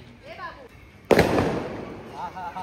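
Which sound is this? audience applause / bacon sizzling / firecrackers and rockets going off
firecrackers and rockets going off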